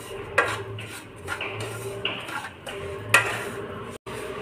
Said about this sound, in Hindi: सूजी को लो फ्लेम पे चला चला कर अच्छे से भुनेंगे